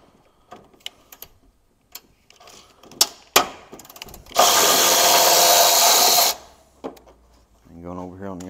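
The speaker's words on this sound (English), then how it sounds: "now I'm moving over to my 1/4 inch, 6-inch extension with the swivel tin" A 1/4-inch socket wrench on a 6-inch swivel extension works a bolt loose during cooling fan replacement on a 2008 Honda CR-V. Scattered sharp metallic clicks lead into a loud two-second rushing burst, and a brief voice follows.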